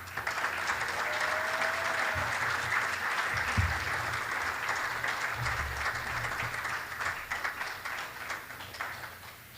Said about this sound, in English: Please join with me in giving a warm applause to the Official of the Year, Laura White.